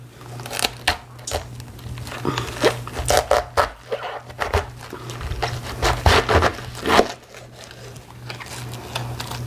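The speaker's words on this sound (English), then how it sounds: "we are going to cut up this cabbage, and you want to cut it up and core it" A knife slices and cores a whole head of cabbage, giving crisp, crunchy cuts and scraping strokes in an irregular rhythm, close and moderately loud with no talking.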